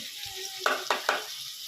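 Fish sautés in a pan with salt, turmeric and spices, a soft sizzle under three distinct stirring scrapes in quick succession.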